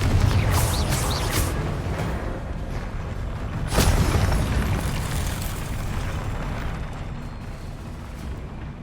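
Loud fiery blasts from the Confringo spell in the Hogwarts Legacy video game, several bursts and booms in a dense stretch of combat, with one sharp explosive peak near the middle and a crackling rumble throughout.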